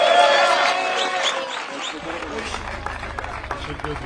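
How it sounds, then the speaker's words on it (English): Audience applause at the World Downhill Skateboarding Championship in Erzincan, a steady wash of clapping and crowd noise that stays fairly loud throughout, mixed with faint voices and low rumble. "let's have a round of applause again, please, for the Deputy Governor"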